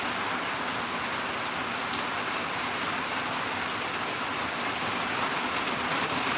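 Heavy rain drums steadily on a tin roof over a front porch, an unbroken close wash of patter with no voices.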